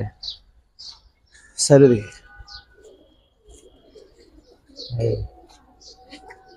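A big female pigeon of a high-flying giribaz breed gives two short, low coo bursts a few seconds apart, close by and separated by quiet stretches with small chirps and clicks. Someone speaks between them.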